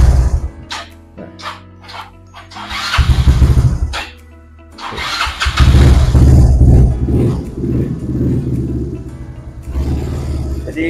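A carbureted Yamaha Mio scooter that struggles to start and won't hold idle cranks in several short attempts, then catches and runs roughly, its loud, close engine sound surging and sagging.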